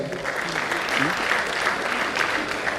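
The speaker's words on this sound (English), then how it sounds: "A round of applause for them." Audience applause at a college of medicine scientific conference plenary session, steady clapping filling the hall for honorees, dense and sustained throughout with no pauses.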